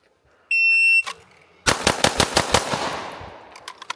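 Pistol shots in a Bill Drill: a shot-timer beep, then six rapid evenly spaced handgun shots ring out close and loud, followed by echo and a few faint clicks.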